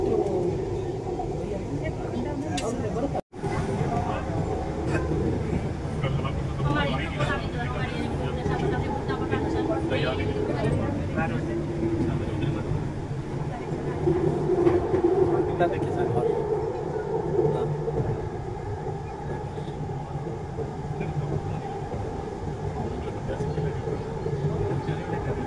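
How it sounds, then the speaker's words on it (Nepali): Inside a moving Bangalore metro train: a steady low rumble and rolling hum of the carriage continues throughout, with people talking over it. "हामी यतिखेर मेट्रोमै छौँ है।"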